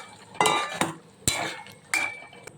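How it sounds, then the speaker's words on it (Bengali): A spoon stirring boiled potatoes and fried flour balls in a pan: four or five distinct scraping clinks of metal against the pan, close and fairly quiet, with short gaps between them. "ময়দার যে বলগুলো আমরা ভেজে রেখেছিলাম সেইগুলো দিয়ে আবারও একটু নাড়াচাড়া করে নিচ্ছি"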